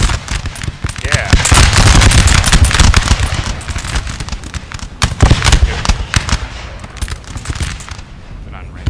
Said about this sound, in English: These units are going to shoot on that.